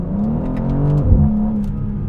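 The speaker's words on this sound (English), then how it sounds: "It's a very characterful engine. I love the S58. It's a very, very playful engine. It revs." A BMW M2 CS with the S58 twin-turbo engine, set in Sport Plus with a sport gearbox, revs loudly and close, the engine note rising and falling through a quick blip before settling back to a strong drone.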